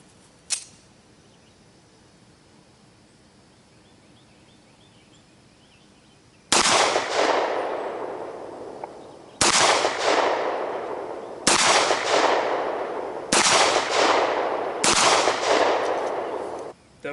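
9mm Winchester full-metal-jacket rounds fired from a Beretta pistol crack out in five loud, sharp shots spaced a second or two apart, each with a ringing decay, after a quieter lead-in with one small click.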